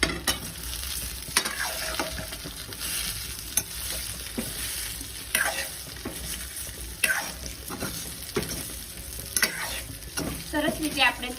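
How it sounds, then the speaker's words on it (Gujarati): Mustard seeds crackle and pop in hot oil in a pan while a spoon stirs them with salt, sharp sizzling bursts and scraping clatters repeating close-up for Gujarati bottle gourd muthiya. "રાઈ કકડી ગઈ છે, મિક્સ કરી દઈશું।"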